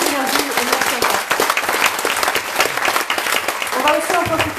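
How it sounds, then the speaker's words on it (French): An audience at a French digital skills symposium applauds the participants. The clapping is dense and sustained, close and loud, with voices breaking in near the start and again toward the end. "je vous demandais vraiment de les applaudir"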